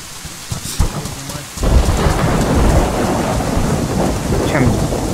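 Heavy rain and a thunderstorm open quietly, then a loud thunder rumble breaks in and settles into a dense, continuous downpour roar that stays strong to the end.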